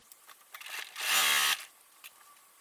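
A sewing machine makes one close, half-second whirring burst of stitching on a fabric drawstring bag, set among faint handling noises in a quiet room.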